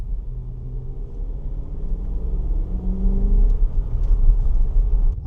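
A Land Rover Discovery 4 in sport mode holds second gear, its engine a low, steady rumble heard from the cabin, swelling gradually as it pulls.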